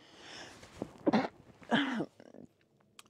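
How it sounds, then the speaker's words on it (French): A single close sneeze with a sharp inhaled build-up and an abrupt burst, followed by a brief breathy trailing sound. "je vais éternuer."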